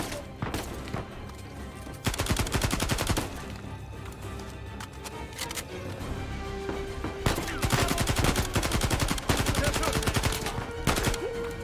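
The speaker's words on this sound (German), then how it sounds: "Schuss." Heavy gunfire in the video game Uncharted 4: dense bursts of rapid shots and automatic fire fill the whole stretch, loud and continuous with brief lulls between volleys.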